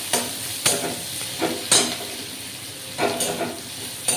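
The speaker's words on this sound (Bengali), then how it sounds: "তো একটু ভাজা ভাজা হোক" Taro stolons with dried chillies frying in a pan, a constant gentle sizzle punctuated by periodic stirring scrapes of a spatula, no talking.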